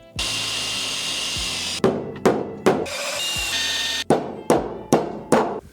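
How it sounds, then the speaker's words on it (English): A hole being drilled bigger in a wooden desk, a steady whirring drill running for a couple of seconds, then a series of short sharp grinding bursts in a quick rhythm, close by. "I gotta drill this one a little bigger."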